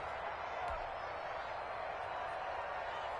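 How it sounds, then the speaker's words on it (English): Video game football stadium crowd roaring steadily ahead of a big third down, a dense, continuous wash of cheering with no clear breaks. "The crowd getting into it as we come up on a big 3rd down."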